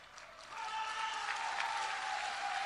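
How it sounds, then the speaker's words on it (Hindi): Women in the crowd at an outdoor political rally in Simdega, Jharkhand applaud, a dense, steady patter of many hands clapping that swells slightly and holds at moderate distance. "ये देखो महिलाएं ताली बजा रही हैं।"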